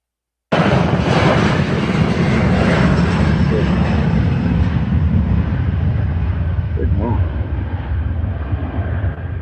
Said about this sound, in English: then they were flown out on a chartered Boeing 737